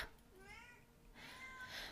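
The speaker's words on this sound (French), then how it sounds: "Le chat" A cat meows in a couple of rising, wavering calls, fairly close, over a quiet room with a faint hum and some brighter noise toward the end.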